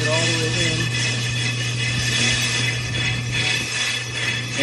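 Brake lathe on automatic feed machining a brake rotor from a 2017 Camaro SS 1LE, giving a steady close mechanical drone with a constant low hum and a faint ticking ratchet-like whir throughout.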